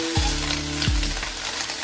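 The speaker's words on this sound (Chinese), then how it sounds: "放入主角皮皮虾爆炒" Mantis shrimp stir-fried in a wok at a fish market meal, producing a steady loud sizzle with two sharp scraping stirs of the spatula.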